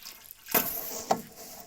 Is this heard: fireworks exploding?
no